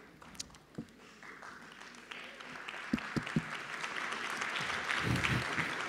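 Audience applause at the start of a packed public meeting about redeveloping the hospital district of Saint-Germain-en-Laye, a crowd clapping steadily with a few louder claps standing out, building and growing denser toward the end.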